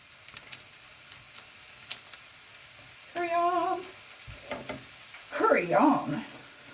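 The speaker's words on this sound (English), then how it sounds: "first we have to put the spices onto this onion mixture." Coriander and other spices hit a hot onion mixture for sweet potato dal, giving a few bursts of frying sizzle between soft clinks and stirring, fairly close, with a brief tonal squeak midway.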